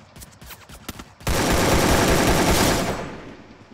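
A loud, sustained burst of automatic gunfire in Free Fire, the shots coming rapidly and densely for about two seconds after a few sharper isolated shots, then fading out, with no voices over it.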